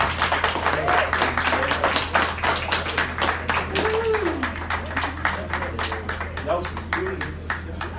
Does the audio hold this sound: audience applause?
yes